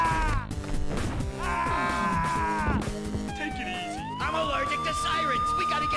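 Wailing police-style siren in the video game Max Payne, its rising and falling tone sweeping loudly over a dense bed of game music and effects, with a voice speaking over it.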